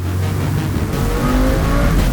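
A 2020 Chevrolet C8 Corvette sports car engine roars loud and close, its pitch climbing as it revs, without any talking.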